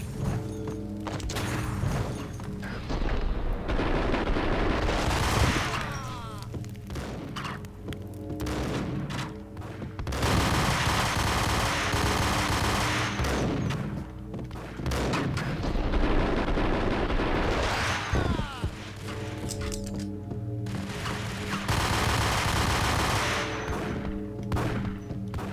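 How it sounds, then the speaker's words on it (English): Gunfire in the Max Payne video game, loud, dense volleys of shots and thuds in repeated waves, with brief lulls between bursts. "They're shooting at me."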